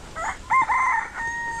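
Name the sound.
rooster crowing, many chickens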